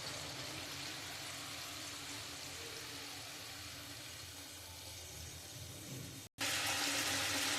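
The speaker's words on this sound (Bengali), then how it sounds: "এবার আমি পরিমাণ মতন জল দিয়ে দেবো।" Water poured or running into a cooking pan while making egg curry with fried boiled eggs in a yogurt gravy, a steady broadband rush for about six seconds, a brief cut, then a brighter continuing flow.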